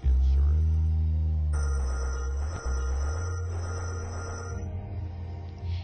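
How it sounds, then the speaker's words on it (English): A phone ringing late at night beside a man lying in bed, a sustained electronic ringtone tone that holds loud and steady, then continues with added higher tones. "his phone begins to"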